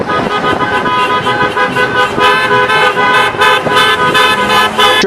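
Several car horns honk in celebration of a wedding over busy street traffic, loud and overlapping, with continuous blaring tones and bursts throughout.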